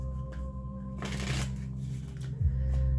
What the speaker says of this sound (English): Give me 3 more shuffles.